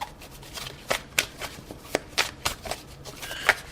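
Tarot cards being shuffled by hand, a string of crisp, distinct flicks and taps at an uneven rhythm, close and fairly quiet, with no voices over them.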